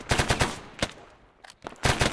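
Rapid semi-automatic SVD sniper rifle fire in the military video game Arma 3, with loud, close cracks in quick bursts and a short pause before the shooting resumes.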